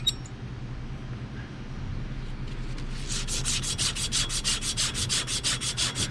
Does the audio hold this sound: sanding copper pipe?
yes